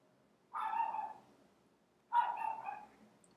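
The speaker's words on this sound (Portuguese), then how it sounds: "Tem uns cachorros latindo aí, mas não liga não." Two barks from a dog in the distance, spaced about a second and a half apart, faint against a quiet background.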